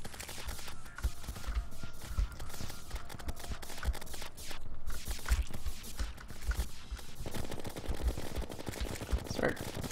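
Rapid bursts of gunfire from Terraria during the Plantera boss fight, clustered shots crackling over a busy background of game music and effects, steady and loud throughout.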